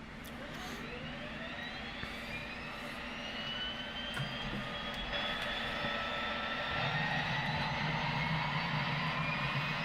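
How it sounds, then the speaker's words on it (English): Jet engine starting up in the X-Plane 10 flight simulator, a loud continuous roar with a rising whine that climbs steadily as the engine spools up. "let's turn our igniters and let's get our first engine started"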